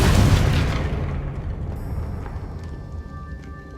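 A Confringo fire spell blast in the video game Hogwarts Legacy, one loud booming explosion that hits at once and then rumbles and fades over several seconds, with faint game chimes lingering afterward.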